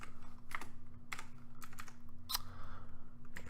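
Close computer keyboard typing while writing C# code, a run of distinct key clicks with a steady low hum underneath; no one speaks.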